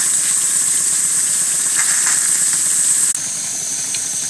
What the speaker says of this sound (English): That now completes the steam test and steam running of the engine at a pressure of